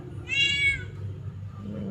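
A small kitten lets out one short, high meow close by, over a low background rumble, with no one talking.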